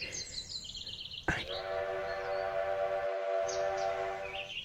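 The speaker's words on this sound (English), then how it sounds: "the train looks like it'll be here in a little bit" A train arrives at a station with a sharp knock, then a long steady horn-like tone with several stacked pitches over a low rumble. The sound is moderately quiet and continues for a few seconds with no talking.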